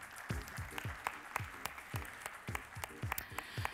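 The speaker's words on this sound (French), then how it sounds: "On les applaudit" Audience applause at an awards ceremony: steady, rhythmic hand claps repeating quickly and evenly, heard moderately close and without talk.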